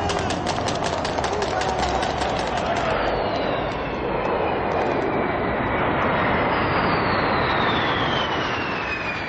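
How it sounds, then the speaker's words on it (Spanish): A B-52 bomber roars overhead, a loud steady engine drone with a high whine sliding downward as it passes, no pauses throughout. "En este caso participaron dos aviones B-52."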